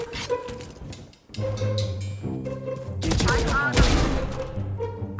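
Gunfire from the Valorant video game rattles in quick bursts and single shots, loud and close, continuing through most of the short stretch.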